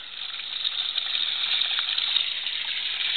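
Water from pond filter hoses dropping about a foot and a half and splashing steadily into a garden pond, a continuous close hiss of falling water with no talk.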